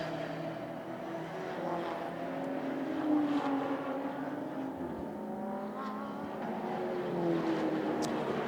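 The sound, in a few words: race cars on formation lap, 24h Paul Ricard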